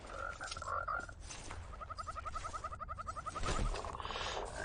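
Poison frogs in the video game Mortal Shell croak in fast, rattling trills, several overlapping calls repeating steadily over a noisy ambient background.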